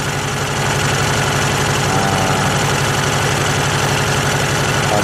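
A Honda carburetor engine idling after repair, a steady, close, mid-pitched running drone with an even rhythmic pulse and no voices.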